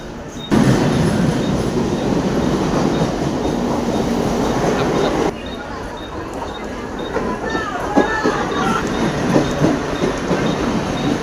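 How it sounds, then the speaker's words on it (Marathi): Mumbai AC local train running, a steady loud rumble of wheels and carriage noise that drops slightly partway through, with faint clatter and a voice speaking over it. "ही आहे AC लोकल ट्रेन."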